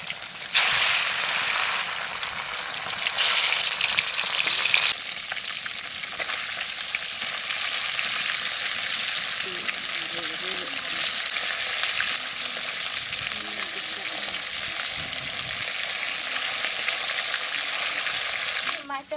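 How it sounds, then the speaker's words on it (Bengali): Sea fish frying in hot oil in a pan, a loud, steady sizzle that runs throughout, with a few sharper bursts near the start. "তেল দিচ্ছি, এই তেল গরম হয়ে গেছে"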